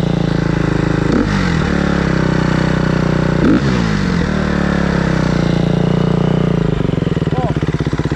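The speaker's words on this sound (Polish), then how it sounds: "Dziwnie chodzi, patrz. Gaz zrobiłem." Motorcycle with a fuel-injected engine running rough, its throttle blipped to brief revs that surge and sag before settling back to an uneven idle, with people talking nearby.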